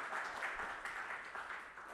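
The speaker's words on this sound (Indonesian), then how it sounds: "Kita berikan tepuk tangan dulu" Soft, steady applause from a church congregation during a worship service, a diffuse wash of clapping heard at a distance without pause.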